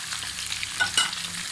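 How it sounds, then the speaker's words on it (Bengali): Rohu fish pieces frying in a pan, a steady broadband sizzle with a few light scrapes and clinks of stirring, close and moderately loud, no talking. "রুই মাছ ভেজে নিচ্ছি"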